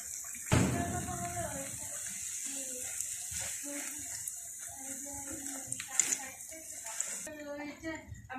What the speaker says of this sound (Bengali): এই যে আমি আরেক খোলা ভেজে নিচ্ছি